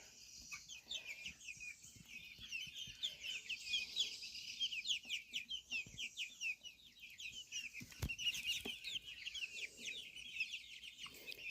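Cream Legbar and Ameraucana hens clucking and chirping softly, a busy stream of short repeated calls at modest distance, with occasional knocks and faint background noise.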